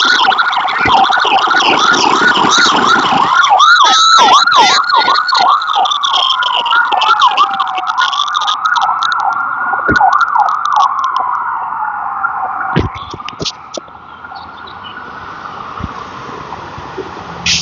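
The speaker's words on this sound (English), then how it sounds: "the cops just came back and went that way, and the ambulance came and went that way" Police car and ambulance sirens pass by outdoors, loud wailing and yelping tones sweeping up and down for most of the stretch before fading into a steadier distant drone with traffic noise.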